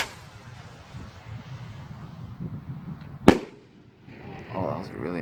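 A Hellcat firework rocket bursts with one sharp, loud bang in a short display, after a low crackling rumble, followed by faint crackle and a person talking nearby.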